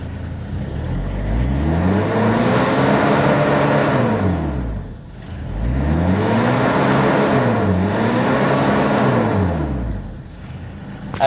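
A 2004 Hyundai Porter diesel with a manual gearbox is revved twice, each time a loud, close engine roar swelling up in pitch, holding, then falling back before climbing again.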